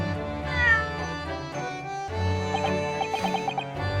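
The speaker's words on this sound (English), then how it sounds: "His meowing is cute." Cat meowing in the video game The Great Ace Attorney, several drawn-out tonal meows over about four seconds, close and fairly loud, alone with no talk.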